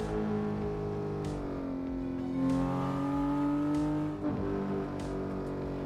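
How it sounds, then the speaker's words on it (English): The Porsche 911 GT3 in the racing game Assetto Corsa gives a steady loud engine drone, rising and falling through revs with brief dips at gear changes, close and continuous with no talking. "So I'm driving the Porsche 911 GT3."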